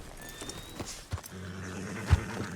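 Horse hooves in the Red Dead Redemption 2 video game thud and clop at a town sheriff's office, a few soft steps with one stronger hit near the end, under faint game ambience.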